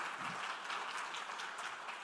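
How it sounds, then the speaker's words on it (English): An audience applauds at the React Africa 2024 event in Morocco, a steady wash of many hands clapping, heard faint and somewhat distant without any talking. "A big applause to Kautar,"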